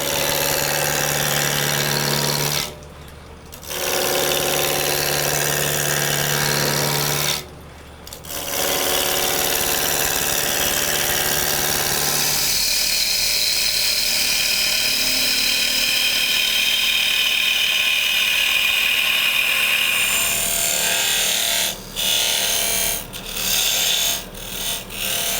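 A wood lathe spins a wooden dish blank while a tool rounds it and cuts a tenon. A steady, loud machine drone carries a scraping cutting texture, with two brief pauses before the tone changes midway and later turns choppy.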